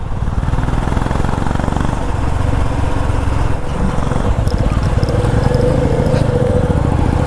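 A Royal Enfield Meteor 350 motorcycle engine runs loudly and steadily on a night ride, its low throb rising in pitch toward the end as the throttle opens.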